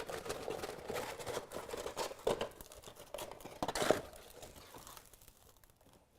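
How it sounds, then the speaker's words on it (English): Sandpaper being rolled up produces irregular crinkling and crackling rustles with a few sharper crunches, close and moderately loud, fading toward the end. "Roll up your sandpaper."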